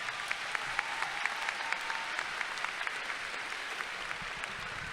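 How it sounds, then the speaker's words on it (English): Sustained applause from a large audience at a high school commencement ceremony, a dense, even roar of clapping with occasional sharp individual claps standing out, steady for the whole stretch. "Students, give your parents a round of applause for raising you right."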